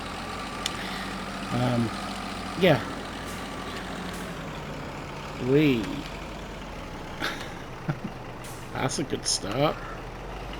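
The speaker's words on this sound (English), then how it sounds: "The old truck's struggling a little bit." Old truck engine in Farming Simulator 22 idling and straining as a low steady rumble, with short rising whine-like tones and a few clicks scattered through, while someone talks briefly over it.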